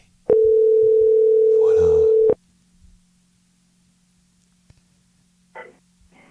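A telephone ringing tone sounds once on an outgoing call to a Quebec listener, a steady held tone lasting about two seconds, fairly loud and clean, followed by near silence and a brief spoken word.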